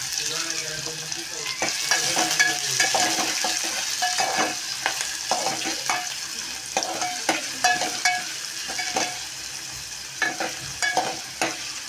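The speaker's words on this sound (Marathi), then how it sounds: "कांदा चांगला सोनेरी रंगावर परतून घेतलेला आहे।" Finely chopped onion fries over low gas in a cumin and mustard seed tempering, giving a steady close sizzle broken by repeated scraping strokes of stirring.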